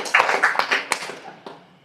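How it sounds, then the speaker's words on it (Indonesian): Small audience clapping briefly in a talk setting, a handful of scattered claps that fade out within about two seconds, with no talk over them. "Tepuk tangan untuk mereka yang goblok"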